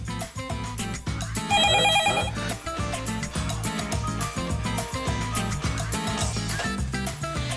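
A phone ringtone plays continuously as a steady, beat-driven musical loop with a bright chiming burst partway through. No voices are heard.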